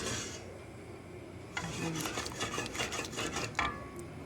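A knife dices ham on a cutting board, with a quick run of rhythmic chopping and scraping taps in the middle after a quieter start, close and moderately loud.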